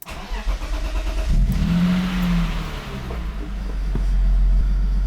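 Car engine idling with fuel injector trouble, a convertible with an M50 engine, running as a steady low rumble close by, with a slight swell in level toward the end and no talk.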